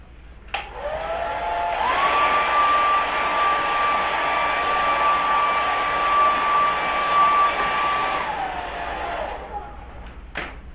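A hair dryer or heat gun warms tape on a frame, switching on with a click, then blowing in a loud steady roar with a high whine before clicking off near the end.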